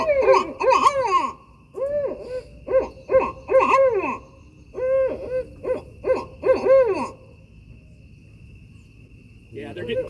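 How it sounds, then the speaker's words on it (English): Owls hooting along a river at dusk, a string of clear wavering hoots in several groups with short gaps between them, set against a steady chirping of crickets. A faint rustle comes near the end. "if you guys get 4 owls on the river, that's world class."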